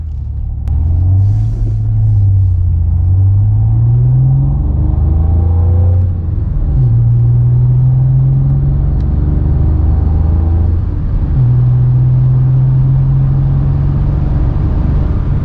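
A Renault Clio IV 1.5 dCi 90 hp plays an R-Sound simulated sports engine note inside the cabin, a loud, low droning rumble that rises and falls with throttle across several revving swells.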